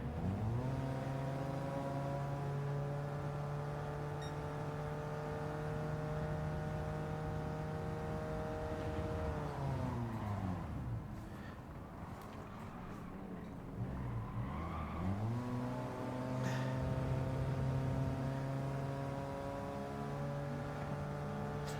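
Toyota Supra race car in Gran Turismo 7 decelerating, its steady engine tone dropping in pitch with a brief tire skid before climbing again, heard alone without talk.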